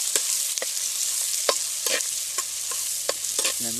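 Motha fish sizzles in a hot pan, a steady close hiss punctuated by sharp spits, crackles and a few brief clinks near the end.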